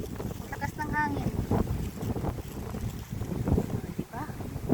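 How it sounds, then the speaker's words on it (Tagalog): Strong wind buffets the microphone at an outdoor playground, roaring and gusting continuously while a person talks over it. "Ang lakas ng hangin"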